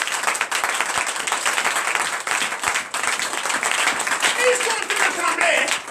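A church congregation applauds loudly during a night service of deliverance and prophecy. Dense, steady clapping fills the whole stretch, with scattered voices mixed in.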